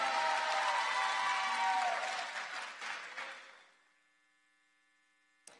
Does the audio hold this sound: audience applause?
yes